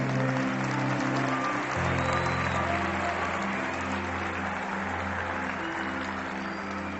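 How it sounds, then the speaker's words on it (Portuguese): A church congregation applauds in a continuous, moderately loud patter over sustained musical tones that keep playing throughout the seven seconds. "pode aplaudir"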